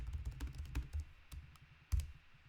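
Quiet, close clicking of a computer keyboard as a line of code is typed, with uneven keystrokes and a slightly louder tap near the end.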